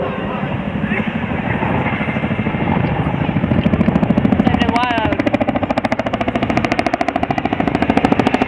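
A Chinook helicopter in a flying display at an Armed Forces Day air show in Cleethorpes, its heavy rhythmic rotor thudding growing louder and steady beneath a continuous public-address commentary.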